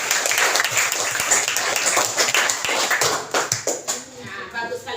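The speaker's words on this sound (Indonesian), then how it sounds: "tepuk tangan buat Hasbi." Classroom of children applauding a student, dense rapid clapping throughout that thins into scattered claps near the end, with some background voices mixed in.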